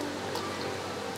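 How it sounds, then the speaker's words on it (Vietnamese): Thick chili sauce bubbling steadily in a pot for a Central Vietnamese vegetarian rice dish, a dense continuous patter of popping bubbles like light rain, close and even, with no talk. "nó sôi lên giống như mưa bong bóng ấy quý vị"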